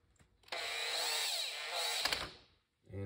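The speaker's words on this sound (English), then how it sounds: "Grab your screw gun" An electric screw gun drives screws into the float bowl of a 42mm Mikuni carburetor on a junior dragster, giving a close, loud whirring burst of about one and a half seconds, then a shorter second run, with no talking.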